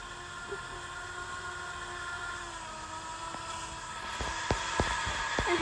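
A train moves along a miniature railway in a video game, a steady low rumble with faint tonal hum, joined near the end by a run of sharp regular clicks like wheels over rail joints.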